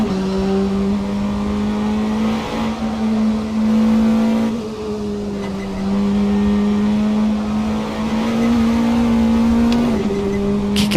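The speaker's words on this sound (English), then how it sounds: "Try and pick up the throttle nice and early." A race car engine in the Assetto Corsa racing game, a Formula 3 or Praga or Mazda MX5, drones loudly and steadily, its pitch rising and easing back with throttle and gear changes, heard close as if from the cockpit.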